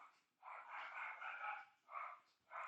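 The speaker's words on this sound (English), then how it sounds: "That would be our dog" A household dog barks faintly from another room, giving a few muffled, spaced barks with short pauses between them.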